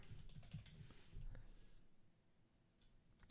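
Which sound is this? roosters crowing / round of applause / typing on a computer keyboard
typing on a computer keyboard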